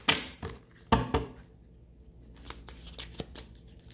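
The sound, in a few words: tarot cards being shuffled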